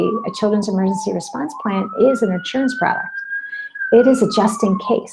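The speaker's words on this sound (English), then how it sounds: "there's an ambulance siren going by me right now." An ambulance siren passes outside, a steady wailing tone that slowly rises and falls in the background while a person keeps speaking over it.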